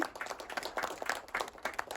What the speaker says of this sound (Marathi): प्रथमेश परबसाठी जोरदार टाळ्या